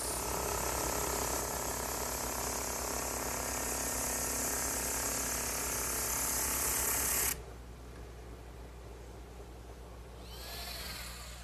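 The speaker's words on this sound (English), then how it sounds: "to smooth all that out, I'm going to use what's called as a drum sander." A drum sander smoothing curved wooden rocking horse pieces, a steady loud whirring grind that cuts off abruptly partway, leaving a quieter mechanical hum that swells briefly near the end.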